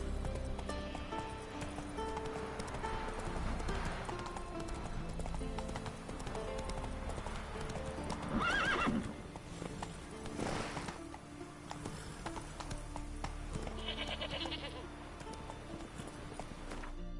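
Horse hooves clip-clop at a steady gallop in The Witcher 3, with a brief whinny partway through, the hoofbeats continuing under background game sounds and music.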